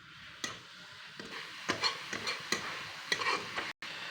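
Taro leaves with salt and turmeric stirred in a pan, a series of scraping strokes and light knocks of the spoon against the pan at an uneven pace, over a faint background frying hiss.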